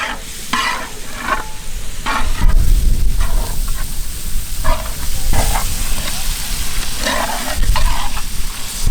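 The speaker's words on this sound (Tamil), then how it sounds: "மசாலாவை நல்ல எண்ணெயில் போட்டு வதக்கி எடுக்கணும்க்கா." Masala sizzles and fries in oil for a village-style mutton curry, with loud continuous crackling and repeated stirring scrapes throughout.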